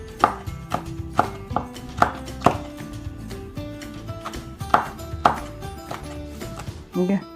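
Knife slicing deseeded Korean melon on a cutting board, a series of crisp, close chops at an uneven pace, some quick pairs and some separated by pauses.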